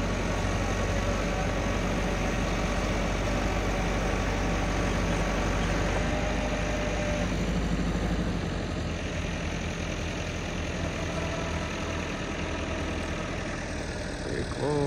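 A tractor engine idles steadily and loud nearby, a continuous low rumble with a slight shift in tone partway through.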